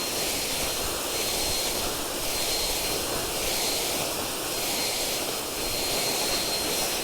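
A STIHL BGA 200 battery leaf blower blows leaves out of long grass into the wind, a steady loud airy roar with slight surges and no talk.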